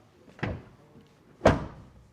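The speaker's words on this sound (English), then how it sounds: "First of all, door closing sound" Two solid thuds from a 2026 BMW iX3 electric SUV's doors closing, one near the start and one about a second later, each a short heavy slam with no talk over them.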